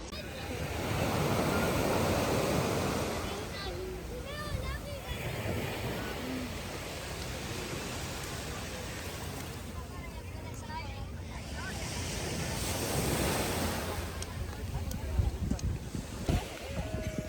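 Sea waves washing onto a small beach at Barcelona, a broad rumbling surf with gusts of wind buffeting the microphone, swelling and easing over time while people talk faintly nearby.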